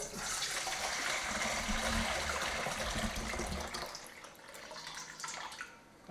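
Water from a jug filled to within half an inch of the rim, poured into another vessel for pickle brine, making a steady close splashing and gurgling stream that fades and thins toward the end.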